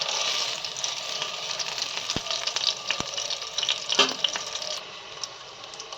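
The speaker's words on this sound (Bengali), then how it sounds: "তেল গরম হয়ে গেছে, দিচ্ছি একটা মিডিয়াম সাইজের আলু। আলুটাকে ভালোভাবে ফ্রাই করে নেব।" A medium-sized potato fries in hot oil, giving a bright, steady hiss with scattered sharp pops and crackles, fairly close, and no voices.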